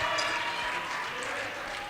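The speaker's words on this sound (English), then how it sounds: "Mara Jackson checks out, getting an applause for Hastings as Burnsville comes up the floor." Applause for Hastings at a girls high school basketball quarterfinal against Burnsville in a gym, a brief wash of clapping from the crowd that fades slightly, with a commentator talking over it.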